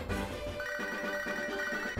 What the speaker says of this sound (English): Emergency phone call.